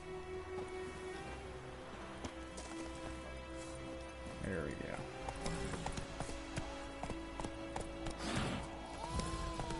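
Horse hooves clip-clopping at a run in The Witcher 3, a rhythmic, moderately faint patter of hoofbeats under game music and ambience, with a person talking briefly over it.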